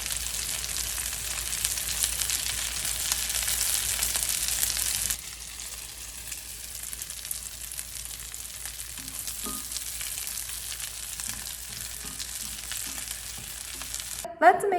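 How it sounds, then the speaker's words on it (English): Beef and tofu patties sizzle steadily in oil in a frying pan, a loud continuous hiss that drops sharply partway through to a quieter sizzle with occasional soft clinks and a brief clatter at the end. "Just cook them until they turn light gold brown for tender and juicy patties."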